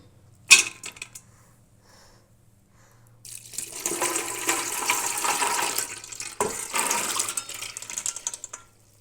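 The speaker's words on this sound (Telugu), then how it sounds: "ఇందులో వేస్తే వాటర్ మొత్తం పోతుంది" Chana dal soaked for four hours is tipped out so its soaking water drains away: a sharp knock, then a few seconds of quiet, then a steady close rush of pouring, splashing water lasting about five seconds.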